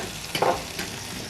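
Scrambled eggs with chives sizzle in a pan on a stove, a soft frying hiss broken by a few short scraping stirs, with no voices.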